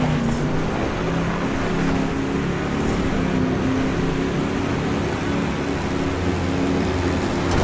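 Off-road 4x4 rally engines from BAJA Edge of Control roar in a steady, loud drone with low harmonic rumbling while a Class 5 limited vehicle is overtaken. No speech or breaks are heard.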